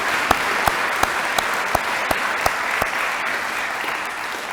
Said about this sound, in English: it still deserves a well-round of applause